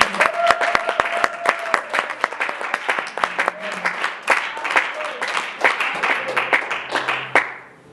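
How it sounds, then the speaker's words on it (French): A church congregation at an anniversary prayer retreat bursts into brisk, sustained applause, many hands clapping densely and close for several seconds, with a few voices murmuring underneath before it cuts off. "Nous acclamons la parole de Dieu."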